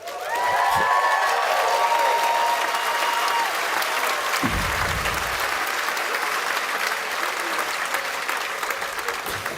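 Graduation audience at a college commencement bursts into loud, sustained applause with some cheering, a dense wash of clapping from a large crowd that runs steadily throughout.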